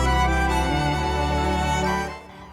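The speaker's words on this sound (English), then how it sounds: "That noise you can hear is cars coming into the park" Cars roll over a cattle grid into the grounds of Saltram House, a National Trust estate, making a dense continuous rumble and clatter that slowly fades at the end, with no voices.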